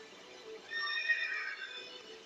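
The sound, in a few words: Odin turning into a horse neighing, video game Final Fantasy XIII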